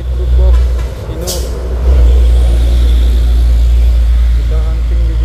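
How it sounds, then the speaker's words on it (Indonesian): Hino box truck climbing a road toward Gunung Kodok, its loud, low engine rumble droning close and steady, with a brief air-brake-like hiss early on and someone talking over the noise. "Ini truk box Hino."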